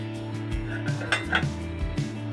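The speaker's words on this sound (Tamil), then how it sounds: "இப்போ மூடி போட்டு சிம்மில் வச்சு வேக வைக்கிறேன்" Close metallic clanks and clinks as a lid is set onto a pot of boiling water for wheat rava upma, several light knocks in quick succession.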